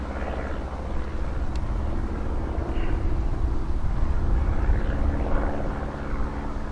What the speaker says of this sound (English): There's another plane just going the other direction.